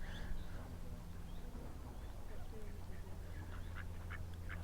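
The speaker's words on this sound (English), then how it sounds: "Another duck's arrived." A duck quacks in faint, brief calls near the water's edge at a quiet riverside fishing spot, heard over a steady low background hum.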